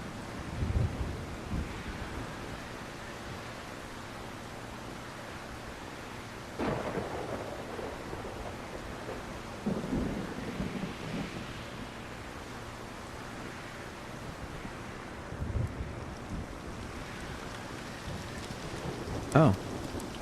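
Rain and thunder in a storm in the video game Minecraft Solarpunk: a steady wash of rainfall under the whole stretch, with low thunder rumbles swelling now and then, and a few faint clicks over it.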